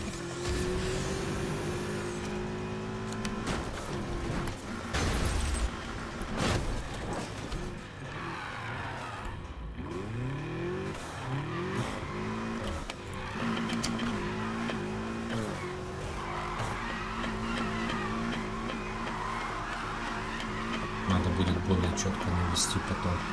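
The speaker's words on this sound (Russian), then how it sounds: "А выхлоп как орёт." A tuned car in a racing video game roars and revs continuously, its exhaust note rising and falling with gear changes and occasional tire squeal, under steady talk.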